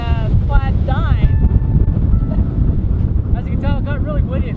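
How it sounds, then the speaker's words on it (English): Gusty wind rumbles and buffets steadily throughout while voices speak over it. "As you can tell, it got really windy."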